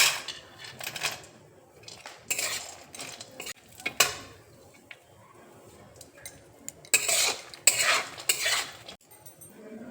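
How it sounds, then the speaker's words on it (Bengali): Almonds and cashews tipped into melted ghee in a pan for dry-fruit laddu, with clattering nuts, metal spoon scraping and stirring, and knocks against the pan, close and intermittent. "এবার আমি আমন্ড বাদাম দেখো দিয়ে দিচ্ছি। কাজু দেখো দিয়ে দিচ্ছি।"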